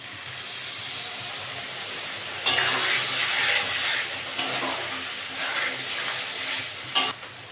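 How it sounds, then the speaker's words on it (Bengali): Spice paste sizzling and frying in a pan for a chicken and potato curry, a steady hiss with louder bursts of sizzle as it is stirred, close and without talk. "আর ভালো করে কষে নেবো মশলাটা মশলাটা ভালো করে কষে নেবো"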